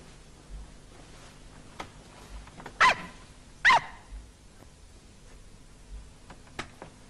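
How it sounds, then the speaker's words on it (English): A small dog barks twice indoors, two sharp close yaps about a second apart, with soft faint yips and sniffs around them over a quiet room hum. "We should let that wee dog out."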